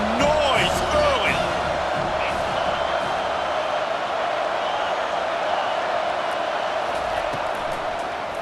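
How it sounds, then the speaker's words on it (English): A stadium crowd in EA Sports College Football 25 roars in a broad, steady wash of noise throughout, with a few shouted voices rising over it at the start. "crowd bringing the energy and noise early"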